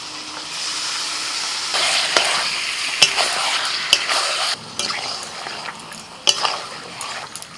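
Marinated chicken sizzles in a pan over fried onion, ginger and garlic, stirred with a utensil that scrapes and clinks against the metal in sharp irregular knocks above a continuous frying hiss.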